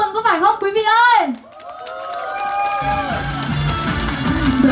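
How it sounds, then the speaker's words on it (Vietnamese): Wedding guests applaud the ring exchange. A voice speaks first, then a sustained tone follows, and scattered clapping swells into steady applause for the last couple of seconds. "ngày vui hạnh phúc hôm nay thì không thể thiếu được những tràng pháo tay để chúc mừng"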